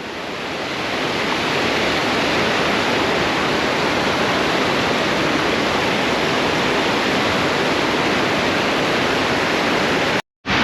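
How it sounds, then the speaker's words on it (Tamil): Water from the Kosasthalaiyar river rushes over a dam near Thiruvallur, a loud unbroken roar of flowing water filling the scene, cut by a brief dropout near the end. "பாருங்க, தண்ணியோட ஃப்ளோ செம்மையாக இருக்குது."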